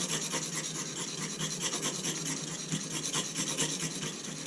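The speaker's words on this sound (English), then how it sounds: "These silicon carbide stones, boy, they cut really, really fast." A utility knife blade is stroked back and forth on a silicon carbide sharpening stone, a close, steady gritty rasping in quick repeated strokes with no talk.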